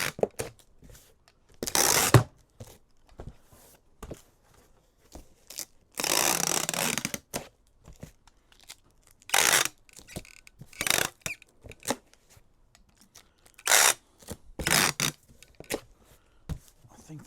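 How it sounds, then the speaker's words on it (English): A handheld tape gun seals an eBay parcel, with several loud ripping screeches of tape pulled across cardboard, the longest lasting about a second. Quieter rustles and clicks from the packing fall between the pulls. "Tape guns are the best when they work properly"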